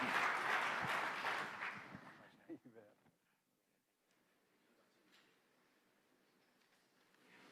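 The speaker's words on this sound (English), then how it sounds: "Can we give these guys just another round of applause?" An audience at a religious freedom ministerial conference applauds loudly for about two seconds, then the clapping thins to a few scattered claps and fades into quiet room tone.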